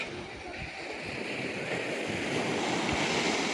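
Sea waves wash and break continuously against the shore and an embankment at Bakkhali, a steady rushing surf with some wind noise, fairly faint and without voices.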